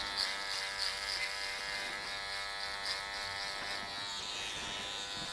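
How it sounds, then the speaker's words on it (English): A foil shaver buzzes steadily through dark stubble on a man's head during a barber cut, a close, continuous electric whine with slight pitch shifts as it moves across the skin. "I'll actually use a foil shaver as well, just to get all this dark hair, this stubble, just to make it disappear completely."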